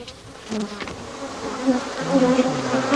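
Honeybees of the genus Apis buzz close by in a steady, dense drone, with single insects flitting past and the pitch wavering as they move.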